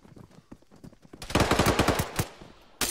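Rapid bursts of automatic gunfire in the video game ArmA 3, a run of closely spaced loud shots following scattered quieter single shots, with another sharp burst at the end.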